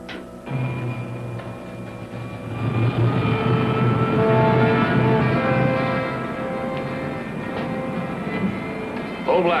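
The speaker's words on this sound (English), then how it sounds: "Starting jet." Jet engine starting up in a 1950s film serial, a loud sustained roar with steady engine drone and rising whine that builds and holds for the whole stretch.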